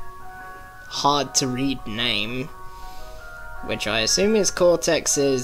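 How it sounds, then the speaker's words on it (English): An ice cream van's jingle plays outside, a steady run of sustained musical tones beneath someone talking throughout. "I don't know if you can hear that, but there is an ice cream van outside."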